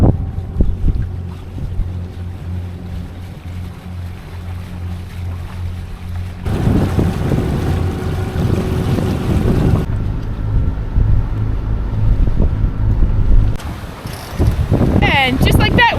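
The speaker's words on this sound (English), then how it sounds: "And just like that, we are sailing." A sailboat runs across the Saronic Gulf with loud wind buffeting the microphone and water rushing along the hull in gusty bursts, with occasional voices under the noise.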